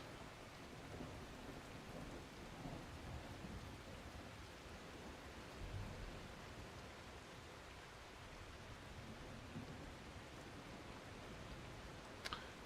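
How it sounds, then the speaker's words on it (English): Steady rain pours in The Last Caretaker, with low rumbles of thunder rolling under it and a sharper crack near the end; no one speaks. "how often is it gonna rain in this game?"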